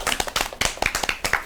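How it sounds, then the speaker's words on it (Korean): A small audience claps at the end of a zero-waste environmental lecture, a short burst of distinct, fairly close handclaps in a quick irregular rhythm. "박수로 마무리하겠습니다."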